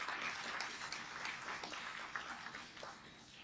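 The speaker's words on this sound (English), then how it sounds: "So again, a big round of applause for the wonderful staff at CDPL." A room at an awards event for racial justice gives the staff of a public defender office a round of applause. It is a steady, hissy wash of many hands clapping that holds for several seconds with scattered sharper claps.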